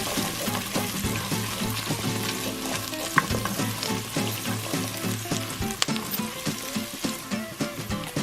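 Garlic sizzles steadily in a hot pan for a beef fettuccine Alfredo, a continuous close crackle with stirring scrapes and a couple of sharp clinks, no one talking.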